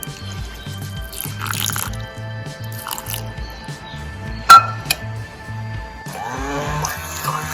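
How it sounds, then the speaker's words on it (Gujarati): Milk pours steadily into a blender with drippy, splashy sounds, set against a looping background music track. "તો હવે થોડું દૂધ એડ કરીશું એમાં"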